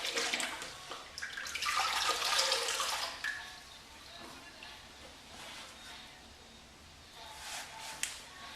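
A safety razor is soaked in a sink of hot water, with soft splashing and running-water swish early on that fades into quiet background hiss.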